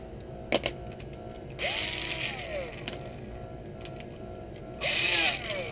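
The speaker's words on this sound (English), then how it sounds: "we're going to go ahead and just drill out" Two short bursts of a whining old cordless drill spinning up and winding down, close by, drilling out part of an arrow build, with some light handling clatter between them.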